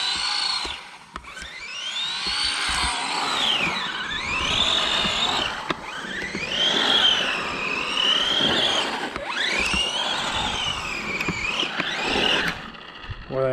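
An ARRMA Infraction Mega brushed four-wheel-drive RC car zips down a road in several passes, its high electric motor whine rising and falling in pitch as it speeds past, loud and close with brief gaps between runs.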